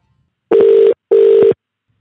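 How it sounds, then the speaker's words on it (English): A telephone ringback tone sounds on a line being called, two loud, steady buzzing pulses separated by a short gap, with no voices. "I couldn't get a hold of Katrina, so let's get her on the phone right now"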